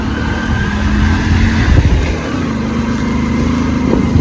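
A car engine labours steadily in first gear up a steep hill road on a mountain pass at Kuttikkanam, a close, sustained mid-pitched drone with a slight swell in revs partway through.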